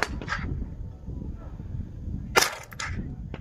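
Guns fired at targets at a birthday shooting outing, a sharp close crack with snappy pops and reports around it, over a low background rumble and faint voices.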